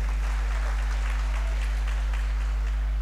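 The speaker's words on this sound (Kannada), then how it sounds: "ಒಂದು ಜೋರಾದ ಚಪ್ಪಾಳೆ ಅಪ್ಪಂದಿರು." An audience at a Shivamogga Dasara stage event applauds with a continuous, diffuse wash of clapping under a strong electrical hum.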